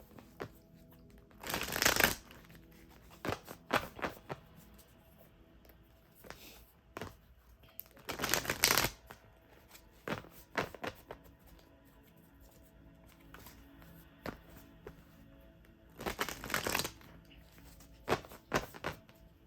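Tarot cards shuffled by hand in several loud bursts of riffling, each about a second long, with softer card taps and handling sounds between them in a quiet room.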